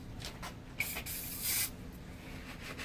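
WD-40 cleaner sprayed onto an engine motor: a couple of short hissing spray bursts, close and fairly faint, over a low background hum with no talk.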